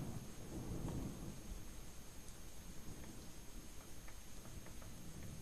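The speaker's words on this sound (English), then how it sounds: "The rain was coming down hard, but at least I was close to home" Heavy rain pours steadily with deep rolling thunder rumbling through, a wet, dense storm ambience in the game Home, with no voices.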